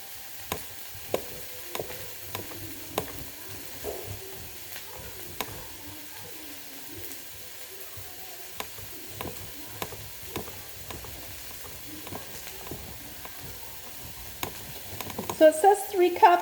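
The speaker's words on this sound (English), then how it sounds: "Give your onions a little stir." Onions sizzling quietly in a pan for a crustless quiche, a soft steady hiss broken by light ticks and scrapes as they are stirred, with livelier clatter near the end.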